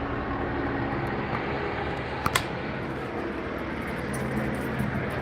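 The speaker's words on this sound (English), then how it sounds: "There's a cop helicopter above me." A police helicopter's steady, droning rotor and engine roar overhead, continuous and moderately loud, with a couple of brief knocks near the middle.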